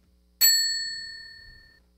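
A bell is struck once, giving a bright, clear metallic ding whose ringing overtones fade slowly over about a second and a half in otherwise quiet surroundings.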